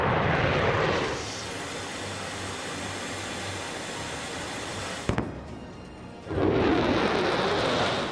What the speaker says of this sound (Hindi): अमेरिकी वायुसेना के 2 बम वर्षक विमानों ने चीन की हवाई सीमा में ऐसे वक्त में प्रवेश किया